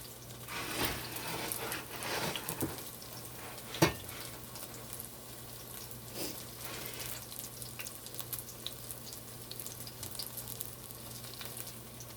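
Quiet, steady sizzling of cod fish fritters frying in oil, with occasional clinks and soft scraping as pieces are flipped and moved around.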